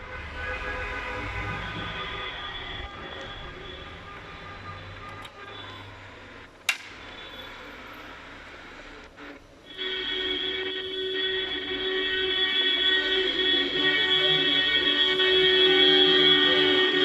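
Car horns from wedding convoys blare in long, sustained blasts that overlap and swell, with a brief sharp click midway through the din.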